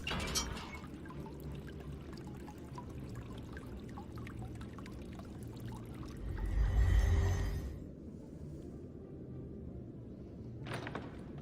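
Stagnant water in the Shadowgate video game, a low trickling, sloshing bed with a swelling rumble partway through, then quieter ambience, with no talk.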